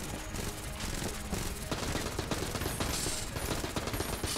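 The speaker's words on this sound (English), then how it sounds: "I'm gonna just shoot him a bunch." In Enter the Gungeon, rapid gunfire rattles nonstop in a dense, loud volley of shots, blending with game effects without pause.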